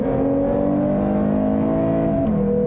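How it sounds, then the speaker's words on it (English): A 2021 Lexus IS 350 F-Sport AWD with a naturally aspirated V6 revs hard under acceleration, a loud, steady, rising engine scream with a brief dip as it shifts near the end. "It's a screaming engine,"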